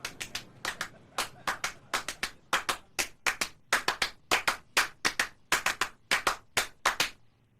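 A 1972 piece performed by hand clapping: a steady stream of crisp, close claps in interlocking rhythmic patterns, dense and evenly paced with short gaps, no voices.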